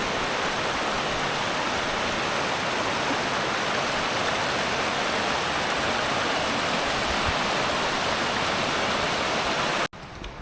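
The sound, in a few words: flowing stream water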